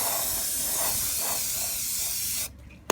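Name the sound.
spray paint can spraying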